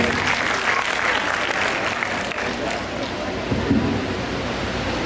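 Audience applause welcoming a poet at a Hindi Week poetry event, a dense steady wash of clapping lasting throughout with a faint voice or two mixed in underneath.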